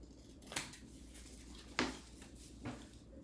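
Scissors snip the corners off folded paper in a children's art lesson, three separate crisp cuts spaced about a second apart against a quiet room.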